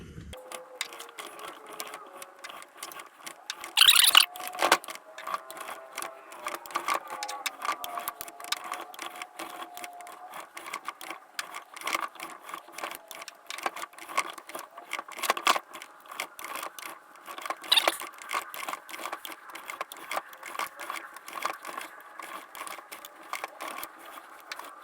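A hand pipe cutter cranks around a Mossberg 500 shotgun barrel, giving repeated close metallic scraping and grinding turns with short louder clicks along the way.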